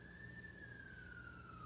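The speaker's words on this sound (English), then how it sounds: "I don't know how I feel about the sirens running by right as I said that." Emergency vehicle siren passing at a distance, a single steady wail slowly dropping in pitch, faint over low background rumble, with no talk.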